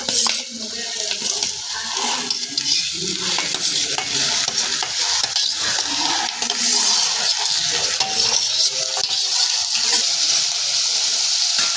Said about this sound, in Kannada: ಎಲ್ಲ ತರಕಾರಿಗಳನ್ನು ಹಾಕೊಳ್ಳೋಣ.